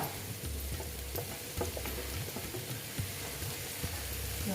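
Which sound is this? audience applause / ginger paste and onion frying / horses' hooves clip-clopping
ginger paste and onion frying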